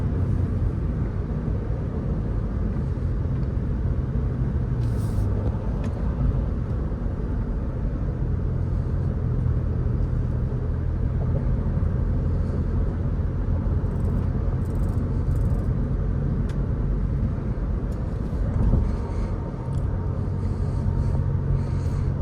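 Steady low rumble of road and engine noise inside a 2023 Ford Expedition Limited SUV as it accelerates, a constant droning cabin sound with occasional faint clicks and no talk.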